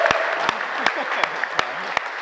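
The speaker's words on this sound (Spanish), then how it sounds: "¡Fuerte el aplauso para Fex!" A comedy show audience claps in a dense, steady burst of applause for a comedian, with a few sharper claps standing out throughout.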